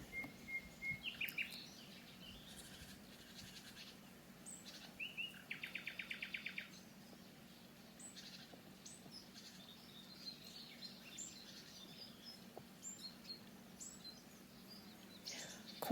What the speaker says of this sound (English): Quite an English bird song background today.